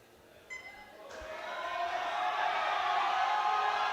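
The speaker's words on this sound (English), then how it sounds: "Has to be one of the most supportive crowd that I ever saw. Cheering for every athlete." A large crowd at a world powerlifting championship for junior and sub-junior women, starting with a short electronic beep, then a roar of cheering that swells and holds steady and loud to the end.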